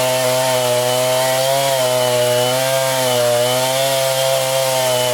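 A chainsaw cuts firewood outdoors during a work session, droning loudly and steadily up close without a break.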